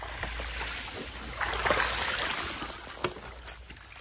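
Water splashes and rushes steadily over a sluice carpet as heavy gold-bearing material is washed at a mining hole, with a few sharp knocks and clatters over the continuous flow.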